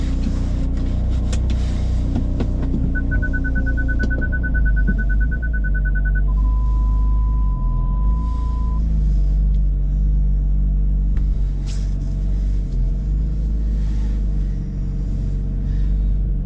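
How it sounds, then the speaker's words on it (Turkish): A car engine runs loudly and steadily, a deep continuous rumble close by, with a brief high electronic tone sounding partway through. "Ya çok bağırıyor bu araba ya"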